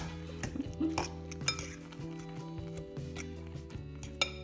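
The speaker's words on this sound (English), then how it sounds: "You have to stir or mix." A spoon stirs a pepper, onion and egg mixture for Russian potato pancakes in a bowl, making quiet, irregular clinks and scrapes against the dish, close but faint.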